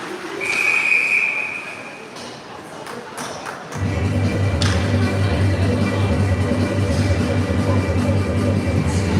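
A referee's whistle blows once, sharp and sustained for about a second, at a U15 youth ice hockey game. Arena ambience and a louder, steady crowd rumble with a few thuds follow.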